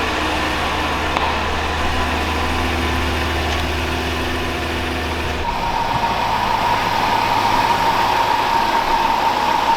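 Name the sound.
Lamborghini car engine idling as it is pulled in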